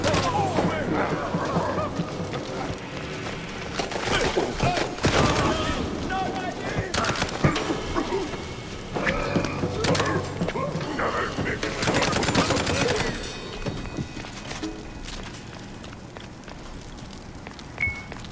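Bursts of rapid machine gun fire in the video game Mouse P.I. for Hire come in several loud, crackling volleys separated by short pauses, mixed with game effects and people talking over them.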